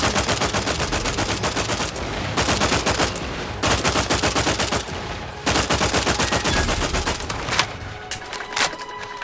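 Gunfire in The Outer Worlds 2, loud rapid automatic bursts that repeat across the clip with short gaps between them.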